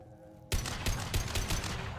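Rapid semi-automatic rifle fire in the video game Mass Effect 2, a loud burst of closely spaced shots starting abruptly after a short silence and continuing steadily to the end.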